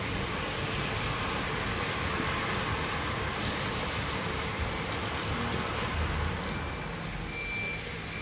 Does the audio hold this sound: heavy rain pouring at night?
yes